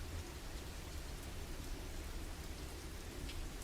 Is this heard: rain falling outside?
yes